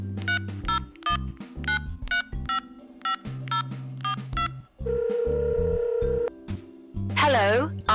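A telephone call being placed: a run of quick dialing tones in bursts, then a steady tone and warbling ring signal, loud and close.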